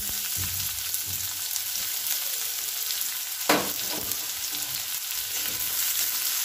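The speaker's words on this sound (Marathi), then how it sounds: "कांदा छान परतून घेऊया। सोनेरी रंग येईपर्यंत आपण कांदा परतून घेणार आहोत।" Finely chopped onion fries with garlic and curry leaves in a pan for a bamboo shoot dish, making a continuous loud sizzle with occasional scrapes of stirring and one sharper knock midway, and no speech.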